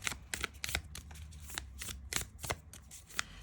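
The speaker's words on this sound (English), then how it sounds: "I am going to get some oracle cards, and let's have a look." Oracle cards being shuffled by hand, a quick series of soft riffling slaps and flutters, close and quiet with no talking.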